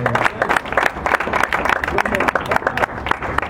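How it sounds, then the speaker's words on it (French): Applause breaks out from an audience at a gathering on a proposed law about hospital negligence in the DRC, a dense run of close, fairly loud claps with a voice talking over it throughout. "Je pense que ça mérite vraiment des applaudissements."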